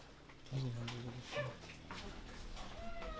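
Dogs at an animal shelter whimper and yip in short bursts, with a low bark-like sound, while people talk nearby in a reverberant space.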